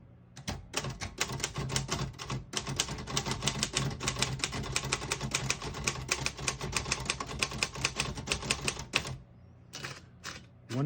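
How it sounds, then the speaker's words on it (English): A 1951 Royal KMG manual desktop typewriter types a sentence, close and crisp, with rapid uneven keystroke clacks in bursts for about nine seconds, then a few isolated strikes after a pause. "I'll type a sentence on the next line."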